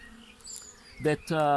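Honey bees buzz around a hive, a close droning hum that swells and fades as individual insects pass near.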